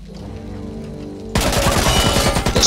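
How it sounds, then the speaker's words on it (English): A SCAR assault rifle in the video game Back 4 Blood fires on full auto: a brief quiet lead-in, then a sudden loud, dense rapid burst of gunfire sustained to the end. "let's go with assault rifles now. The SCAR."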